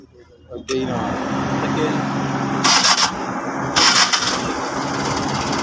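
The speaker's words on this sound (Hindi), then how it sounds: "स्टार्ट करो गाड़ी को, हल्का सा स्टार्ट करो" A used car for sale in Pakistan, running on both gas and petrol, cranks and catches about a second in, then settles into a steady idle, with a couple of louder revs partway through.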